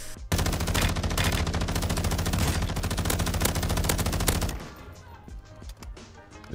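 Rapid automatic gunfire in a Call of Duty match fires loudly and continuously for about four seconds, a dense rattle of close shots, then stops, leaving quieter game sounds.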